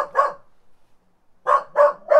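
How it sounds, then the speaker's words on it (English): A dog barks once or twice, then after a short pause lets out three quick barks in a row, close and loud. "What do dogs do? They bark."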